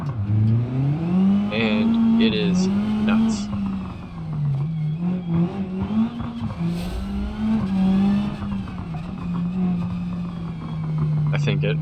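A street-tuned race car in BeamNG.drive on the West Coast USA map holds a steady, buzzing engine drone that rises and falls slightly, heard loud and close under continuous talk.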